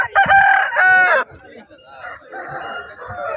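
Fighting roosters at the weekly Punganur rooster market crow loudly in two close, strident bursts up front, followed by fainter clucking and market bustle with people talking in the background.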